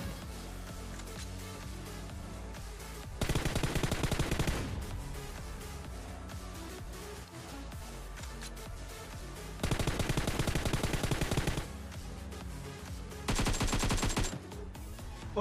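Automatic gunfire in a squad battle royale shooter comes in three sustained bursts of rapid shots, each lasting a second or two. Continuous background game sound runs between the bursts.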